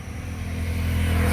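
A car engine rumbles steadily from inside the moving vehicle, its low drone building slightly louder over the short stretch with no voices.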